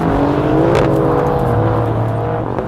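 The turbocharged engine of an Alfa Romeo Giulia Quadrifoglio revs hard up close, a loud, rich growl that climbs in pitch then settles into a steady drone, with no talking.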